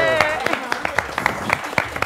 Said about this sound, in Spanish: aplauda fuerte a este invitado